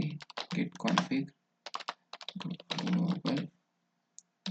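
Manual typing of a git config command on a computer keyboard, quick bursts of clicking keystrokes in several runs with short pauses, close and moderately loud.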